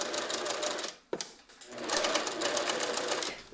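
Sewing machine understitching seam allowance to a blouse lining, steady rapid needle chatter close by, pausing briefly around a second in, then resuming in an even run to the end.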